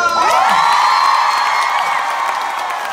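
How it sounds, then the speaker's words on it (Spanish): Festival crowd at an outdoor concert cheering and whooping loudly, a sustained roar of voices with high shouts rising over it for a few seconds. "Aplauso a la gente."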